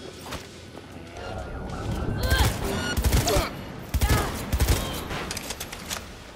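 Gunfire in Cyberpunk 2077, with bursts of rapid shots and sharp cracks clustering through the middle and latter part over ambient noise, with a voice talking in between.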